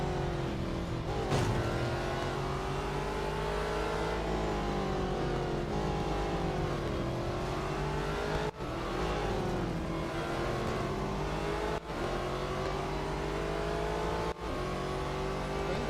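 Race car engines in Real Racing 3 scream and rise through the gears and fall again as cars jostle into a chicane. The loud revving whine is broken by brief dips at gear changes and runs with no talk.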